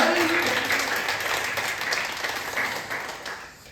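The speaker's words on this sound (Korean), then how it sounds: "주님 앞에 뜨거운 박수 드립니다" Warm church congregation applause, a dense wash of many hands clapping steadily before gradually tapering off at the close.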